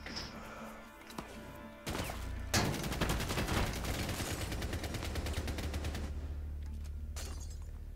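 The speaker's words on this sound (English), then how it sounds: "He killed you by spam firing." Rapid spam gunfire in Rainbow Six Siege comes as a dense, loud stream of shots after a few isolated cracks, continuing for several seconds with crashing impacts mixed in.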